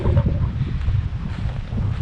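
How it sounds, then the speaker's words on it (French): Strong wind gusts across the open Larzac plateau, buffeting the microphone with a loud, low, continuous rumble that swells and eases without any voices. "le vent est de plus en plus fort"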